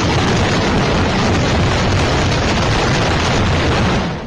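A pesticide chemical factory in Yancheng, Jiangsu, China explodes in news footage, producing a continuous loud, dense roar that rumbles without pause from start to finish.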